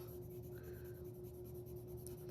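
A colored pencil pressed firmly shades across paper, making a faint, steady scratching under a constant low electrical hum.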